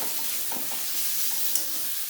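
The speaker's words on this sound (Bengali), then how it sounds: "আদাটা একটু ভেজে নিয়ে বেশ একটা ভাজা গন্ধ ছাড়লেই আমি চিকেনটা দিয়ে দেবো" Steady, fairly quiet sizzling of ginger frying in oil, with soft stirring scrapes and a faint clink near the end.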